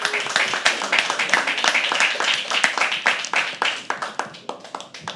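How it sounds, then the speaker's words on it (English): Audience at a live poetry open mic clapping steadily throughout as the next poet comes on stage, with the claps slowly thinning toward the end; a voice speaks faintly under the clapping. "keep clapping"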